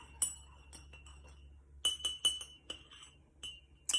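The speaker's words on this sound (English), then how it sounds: "And I'm going to give it a stir once again." A spoon stirs a scoop of powder into a glass, knocking out several bright, clinking taps against the sides, some spaced out and some in quick bursts, close by with no talking.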